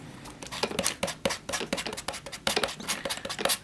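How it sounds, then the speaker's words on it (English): A sanding block rubs lightly over a small prop TARDIS door key, giving quick scratchy strokes in an uneven rhythm, close and moderately quiet. "I'm just taking a sanding block"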